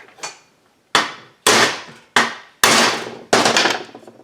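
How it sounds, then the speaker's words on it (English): Six sharp hammer taps drive the bar stud of a Husqvarna 372XP chainsaw into place during a bottom-end rebuild, each metallic knock close and loud, spaced irregularly with brief ringing decays. "I'm going to tap that bar stud through to make sure it's seated."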